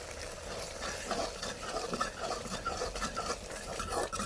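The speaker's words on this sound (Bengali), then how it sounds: "ডালটাকে এবার ভালোভাবে ঘুটে নেব।" Tomato lentil dal with green chillies, salt and turmeric being stirred in a pot over a wood-fired clay stove, producing a continuous scraping, sloshing stir with a faint sizzle underneath, close and steady without speech.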